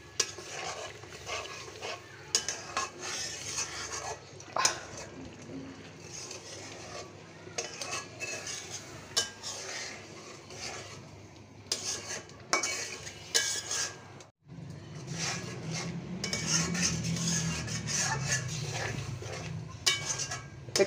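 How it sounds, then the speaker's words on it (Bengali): Shrimp sautéing in a pot over a clay stove, spoon stirring and scraping with low sizzling and occasional metallic clinks, quiet and close with faint background noise. "চিংড়ি মাছ ভালোভাবে কষানো হয়ে গিয়েছে।"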